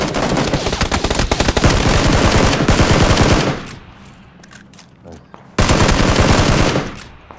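Gunfire in the video game PUBG, a long rapid machine-gun burst, a lull with faint distant shots, then another loud sustained burst.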